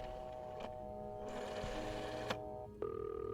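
A telephone rings in the game This Bed We Made, steady electronic ringing tones with a few clicks, and a higher tone sets in near the end.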